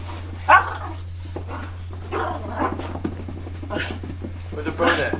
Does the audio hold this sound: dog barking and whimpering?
yes